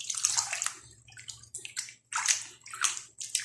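Running water splashes and sloshes in irregular bursts while tuna fish is washed by hand, close and fairly quiet, with brief pauses between pours.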